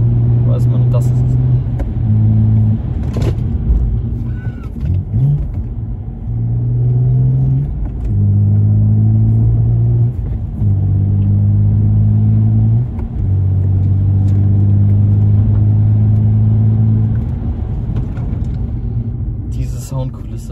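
Inside a BMW 330i with the N52B30 straight-six and a performance rear silencer, the engine drones loudly and rises and falls in pitch through gear changes, a deep steady roar up close, and people talk over it.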